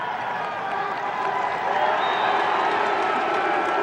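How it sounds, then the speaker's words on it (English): Cornell crowd at a 1987 NCAA men's lacrosse game against Syracuse, a dense sustained roar of cheering and applause that swells slightly and holds steady throughout. "And the Cornell crowd is loving it."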